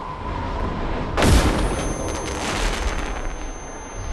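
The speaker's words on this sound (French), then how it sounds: "Oh, double flashbang." A flashbang grenade bursts in a video game with one loud broadband blast that rings on in a high whine and rumbling decay. A second detonation is not clearly separated.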